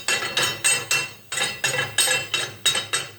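Light hammer taps knock cutting slag off a CNC-cut steel part for a hidden-tang knife clamping jig: about nine sharp metallic clinks in an uneven rhythm, close and fairly loud, with no talking.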